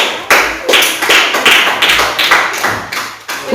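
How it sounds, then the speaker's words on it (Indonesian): A dense round of close, loud clapping from a classroom group after a group presentation, fairly rhythmic and continuous throughout. "Tepuk tangan untuk kelompok 2."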